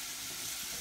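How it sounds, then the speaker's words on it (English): Onion, carrot and celery sizzle gently in a pan in a home kitchen, a steady soft hiss of frying throughout with no voices. "Onion, carrot, celery, I'm just sweating it down."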